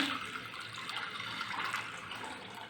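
Water pours in a soft, steady stream into a pot of washed lentils nearby, quiet and continuous with no voices.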